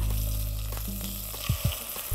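Butter or oil sizzles in a saucepan while boeuf bourguignon is being cooked, a loud, steady frying hiss with a few brief clatters of stirring near the end and no talking.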